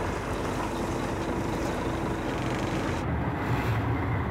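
A fishing boat off the Shima Peninsula in Mie motors away to a new spot, its engine giving a steady, loud, broadband rumble mixed with wash and wind noise throughout.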